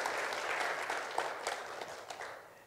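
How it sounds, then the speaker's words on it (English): A church audience applauds the worship team in a short burst of dense, moderately loud clapping that gradually fades away. "How about a round of applause for them?"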